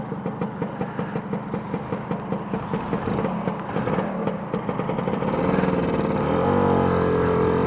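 Lambretta scooter engine ticking over at a raised idle, a steady close putter with clattery pulses that rises slightly in pitch toward the end, no talk.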